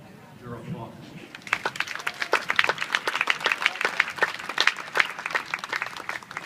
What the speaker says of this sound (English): Please give them your applause.